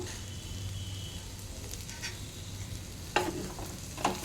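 Fresh coriander and mint fry with a chicken and black-eyed pea curry in a pan, a quiet continuous sizzle broken by a couple of soft utensil clicks near the end.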